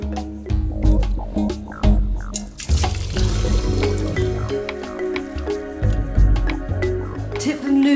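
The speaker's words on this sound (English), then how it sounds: "they need to be drenched with ice cold water just to stop them cooking so they" Ice-cold tap water gushes over drained noodles in a kitchen sink, a loud, close splashing stream with sloshing and drips, broken by a few clanks as the colander shifts.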